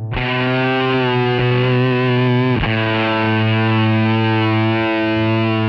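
An electric guitar bashed hard with heavy distortion, its neck bent so the sustained harmonic-rich chord wavers in and out of tune, loud and continuous with a fresh strike midway.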